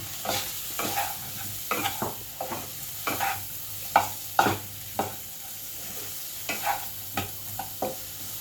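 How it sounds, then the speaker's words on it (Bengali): Potatoes, already fried, being stirred in a pan with half a spoon each of salt and sugar for a Bengali muri ghonto dish: repeated scraping stirs at an irregular rhythm over a soft, steady sizzle, close up, with no talking. "হাফ চামচ চিনি দিয়ে ভালো করে নাড়িয়ে ভেজে রাখা আলুগুলো দিয়ে দিলাম"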